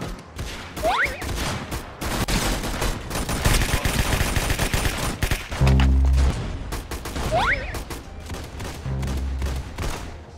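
Gunfire in a video game, loud rapid bursts of automatic shots and heavy impacts, with a couple of sharp rising whistles and deep booming hits.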